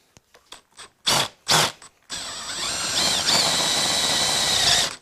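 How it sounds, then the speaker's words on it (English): A step drill cuts a 12mm hole, first a few short trigger bursts and then one sustained, loud whirring run lasting a few seconds. "So we'll go in with a step drill and see how close we can get."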